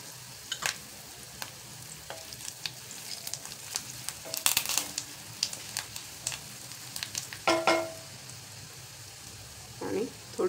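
Tadka of curry leaves, turmeric and asafoetida, later topped with coriander, sizzles in hot oil for Indori poha: a soft, steady crackle with sharp pops and spits scattered throughout, a louder burst near the middle and another toward the end.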